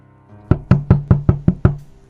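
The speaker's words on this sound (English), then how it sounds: "And then a knock." Knocking on a wooden door, seven sharp knuckle raps in a fairly even quick rhythm, each with a short hollow resonance, close and clear with no talk.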